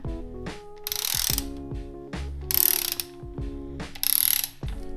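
A hand ratchet tightens cylinder head bolts on a Volvo V70R five-cylinder engine build in bursts of rapid clicking, with pauses and short metallic knocks between strokes, close and clear.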